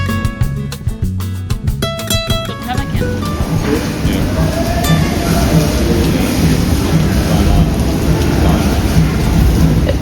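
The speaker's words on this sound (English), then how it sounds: "And as we were enjoying lunch, a storm rolled in and we just enjoyed it." A thunderstorm with heavy rain at an all-inclusive resort in Panama gives a loud, steady roar of downpour and deep rumbling thunder. Some brief clattering tones come through near the start.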